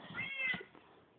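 A single short cat meow from Minecraft Pocket Edition 0.12.1, close and clear with no talking over it.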